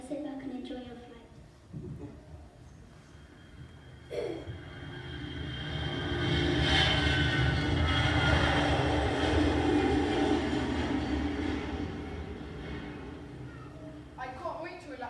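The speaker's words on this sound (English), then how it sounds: "you are now boarding flight 1400 BC to Athens, Greece. Please fasten your seatbelts, ready for takeoff." Airplane takeoff sound effect played at a school assembly on the Ancient Greeks, a roar that builds and swells loudly through the middle, with children's voices around it.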